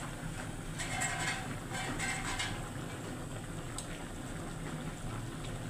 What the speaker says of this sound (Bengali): আমি কষিয়ে রান্না করছি